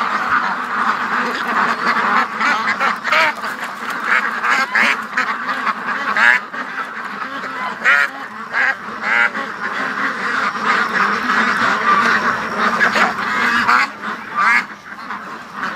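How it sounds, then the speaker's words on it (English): A flock of ducks quacks and chatters steadily at close range as they are driven toward their pen on a warm evening, with the busy calls continuing throughout. "come on, ducks, wrong way."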